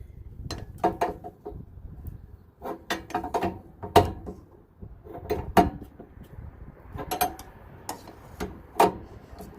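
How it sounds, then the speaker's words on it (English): A 13/16 wrench works on the propane fitting of an RV furnace, giving scattered metallic clicks, taps and scrapes in irregular bursts, close and moderately loud with quiet gaps between. "Now it's time to loosen the propane fitting. 13/16 wrench."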